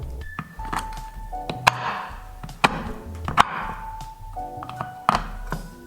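Knife chopping a block of 90% dark chocolate on a board, a handful of sharp thunks spaced about a second apart, close and crisp, with quiet clinks and rustle between strokes and some background music.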